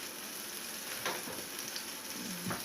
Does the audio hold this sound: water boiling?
yes